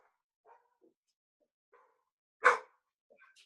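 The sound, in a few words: dog barking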